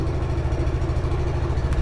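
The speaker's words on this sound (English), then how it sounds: "So to start the engine, you squeeze one of the brakes" A Buddy 170i scooter engine idles with a steady low, even rumble, close and continuous, with no talking.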